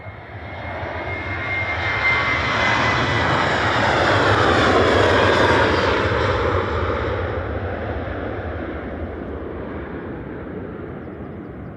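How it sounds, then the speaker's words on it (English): A KLM airliner departs Manchester Airport for Amsterdam, its engines a loud, steady roar that swells to a peak and then slowly fades as it climbs away, with no voices over it. "Smiling KLM going now, back to Amsterdam"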